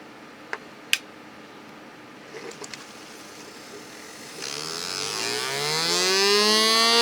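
A repaired small electric motor, freshly lubricated, powers up after a few light clicks and taps and settles into a rising whine that climbs steadily in pitch and grows louder toward the end.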